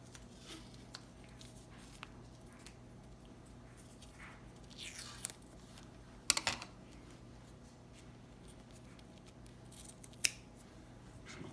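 Scissors snipping through old athletic tape while an ankle is being taped, a few quiet, close clips and crisp cuts in an otherwise near-silent room.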